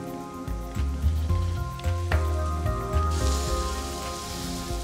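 Crumbled chorizo, taken out of its casings, sizzles in a pan with onions, a steady crackling hiss throughout, while low, tonal sustained sounds run beneath it.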